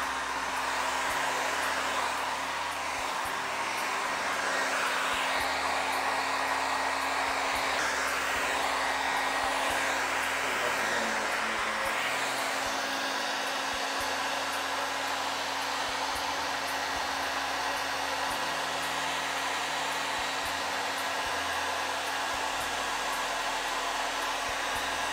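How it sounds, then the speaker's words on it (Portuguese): A hair dryer blows steadily and close up while drying a painted glass piece at a craft table, a continuous airy whoosh with a faint motor hum, running uninterrupted with small shifts in tone as it moves. "Então agora o próximo passo é secar essa peça aqui que eu fiz toda com secador."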